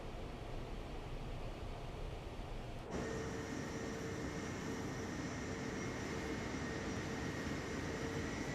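An SR-71 jet in Microsoft Flight Simulator 2024 roars as a steady, dense broadband rush, with a sudden shift partway through to a brighter, higher-pitched tone over the constant noise.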